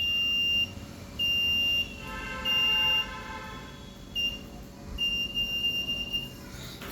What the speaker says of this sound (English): since I have attached a buzzer to the IR sensor, when I show my hand, it starts beeping